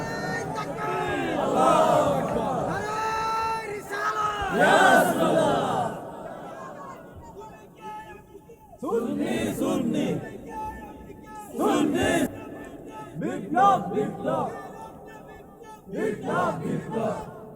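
A crowd at an Islamic waz sermon in Bangladesh led by Mufti Gias Uddin Taheri chants slogans together in loud, rhythmic bursts, with repeated call-and-response shouts and brief pauses between them.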